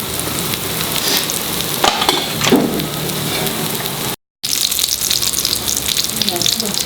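Egg cutlets (anda cutlet) frying in a pan over a medium flame give a steady, close crackling sizzle with brief stirring or turning clatter, broken by a short silent gap before the sizzle resumes.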